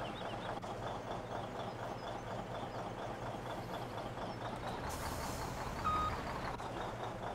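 A heavy logging truck engine in Farming Simulator 17 drones steadily with a low rumble, joined by a brief hiss like an air brake release near the end.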